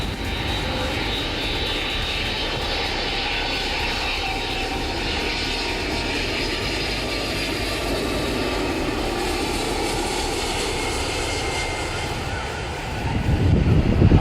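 Jet airliners landing on a low approach over the beach at Phuket Airport give a broad, steady roar that swells louder toward the end as a plane passes close overhead.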